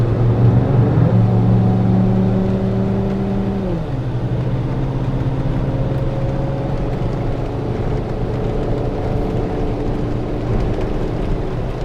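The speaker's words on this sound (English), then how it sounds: "Let me give you some throttle, see how it responds." A car fitted with a throttle body spacer accelerates on a highway cloverleaf, its engine note climbing and then settling into a steady drone beneath road and wind noise.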